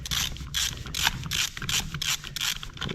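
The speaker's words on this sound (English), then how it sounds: "Then we can take the nuts off the carburetor." A ratchet clicks rapidly in repeated bursts as nuts are removed from the carburetor of a Stihl MS 290 chainsaw, a close, rhythmic metallic ratcheting heard alone.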